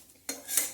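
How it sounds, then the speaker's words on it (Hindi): A utensil scrapes and stirs crispy fried spices and curry leaves in a pan, making a brief metallic clink and a soft, close rustle. "अच्छे से क्रिस्पी हो गए और इनकी आवाज़ भी आप लोग सुन सकते हैं।"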